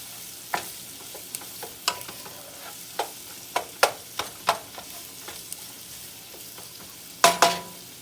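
Onions sautéing in a pan, a soft steady sizzle broken by a string of sharp clicks and scrapes from stirring, with a louder clatter near the end; close and unaccompanied by voices.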